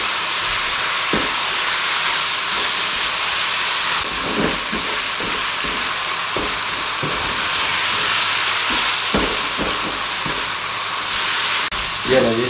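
Rice noodles stir-fry with spices for Singapore noodles in a hot pan, a loud continuous sizzle and hiss with occasional scraping stirs and clinks of the utensil against the pan throughout.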